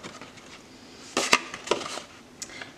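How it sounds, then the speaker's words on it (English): Small scissors snip through scored card stock while a treat box is assembled: a few short, crisp cuts close by, spaced irregularly over quiet background. "I'm going to switch over to my smaller scissors"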